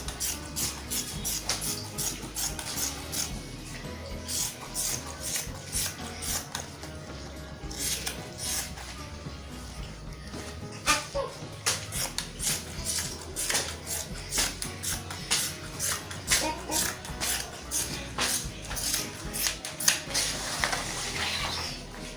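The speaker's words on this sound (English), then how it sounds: "So the next thing I'm going to do is to cut it down." Scissors cutting fabric for wrap palazzo pants make repeated close crisp snips and rustling, a steady series of sharp clicks throughout with no voices.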